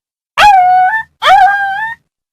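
A dog yelps twice after being kicked near a tractor, two sustained, loud, whining cries with a short gap between them, close by and with no talk over them.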